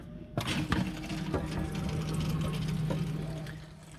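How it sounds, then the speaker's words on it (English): Water rushes and gurgles through a pipe after a soft click, a steady close flow with a low hum underneath. "Water's coming through."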